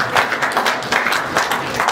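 Audience at the New-Bell Diaspo Awards ceremony in Montréal applauds, steady close clapping from many hands filling the room without a break.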